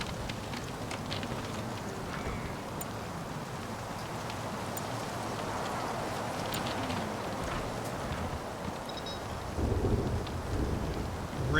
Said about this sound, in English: Rain in the middle of winter.